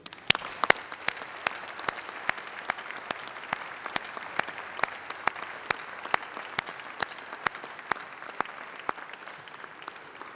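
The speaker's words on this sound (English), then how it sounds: "let's have a massive round of applause for all those special people, your family, your friends, and your tutors" Applause at a UCLan university graduation ceremony in a large hall, a sustained crowd clapping with sharp individual claps standing out near the front, steady for the full length without speech.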